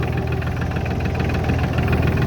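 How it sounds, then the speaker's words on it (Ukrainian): A Solis 26 Extra four-wheel-drive tractor with a three-cylinder Mitsubishi engine idles close by, a loud, steady low rumble with an even knocking pulse and no talk over it. "Мотор у нас трьохциліндровий Mitsubishi."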